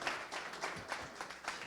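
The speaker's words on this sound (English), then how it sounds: "Please give him a round of applause." An audience applauds a speaker, producing a dense, fairly faint patter of many hands clapping together that continues throughout the short stretch.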